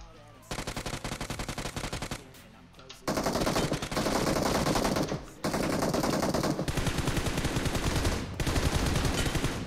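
Rapid automatic gunfire in the mobile game PUBG Mobile rattles out in long, loud bursts separated by brief pauses, close and dominating the mix.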